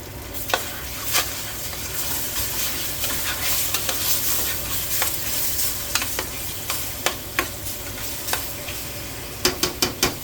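Pheasant pieces sizzle steadily in a hot pan while a spoon scrapes and stirs, with sharp clicks and knocks that grow more frequent near the end, loud and close with no talking.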